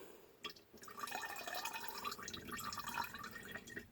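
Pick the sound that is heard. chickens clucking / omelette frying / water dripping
water dripping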